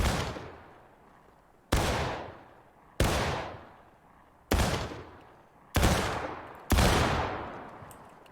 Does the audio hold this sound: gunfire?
yes